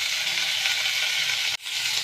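Two pieces of fat sizzling in a pan for okra with meat, a bright, continuous crackling hiss that dips sharply for an instant near the end before resuming.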